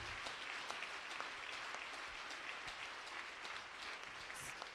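Congregation at a French-language church service applauding the Holy Spirit, a steady, dense wash of clapping from many hands that stays even throughout, fairly distant and quiet, with no voices.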